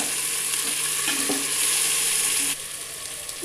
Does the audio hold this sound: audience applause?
no